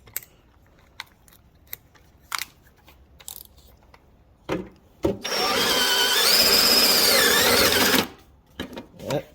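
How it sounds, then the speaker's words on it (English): A beefy drill bit grinds through the rivets holding a snow shovel's metal edge, a loud steady whine lasting about three seconds after a few scattered clicks and knocks, with short handling noises trailing off at the end. "it's a little bit beefier of a bit, so hopefully it'll eat through these rivets"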